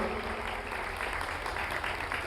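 An audience applauds together, a dense, even wash of clapping that holds steady for a couple of seconds at a moderate distance.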